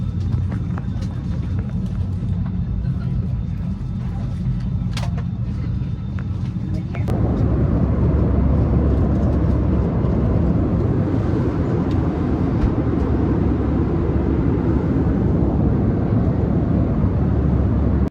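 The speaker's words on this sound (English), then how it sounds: "We're on the plane." An airplane cabin in flight: a loud, steady engine and air roar that grows heavier and denser partway through, continuous throughout without breaks.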